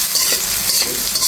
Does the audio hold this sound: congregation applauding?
no